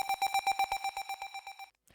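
A synth tone with a triangle-shaped pattern pulses in a quick, even series of about a dozen bright notes. It fades slightly before stopping abruptly, with a faint click at the end.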